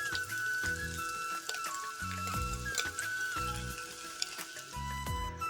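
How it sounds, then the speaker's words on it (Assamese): Paneer frying in a pan, a steady sizzle with small crackles and repeated low thumps of stirring, close and fairly loud throughout, no voices. "পনীৰখিনি এনেকৈ ভাজি লওঁ বুলি ভাবিছোঁ"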